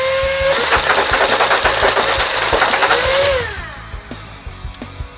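A Nerf blaster with a Chronobarrel fires a loaded 20-round Flipazine in one long rapid burst, a loud continuous mechanical whir with a fast rattling rhythm that stops abruptly, followed by a few faint clicks.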